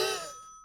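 A short electronic telephone ring used as a sound effect in a comedic tabletop role-play story, a single bright bell-like tone that fades quickly and leaves a thin, fainter tone hanging at the end.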